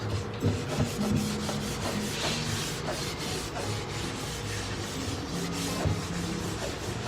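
A rag rubs antique beeswax over furniture painted with Mango Paint, producing a continuous, close, soft scrubbing and swishing with uneven rhythm.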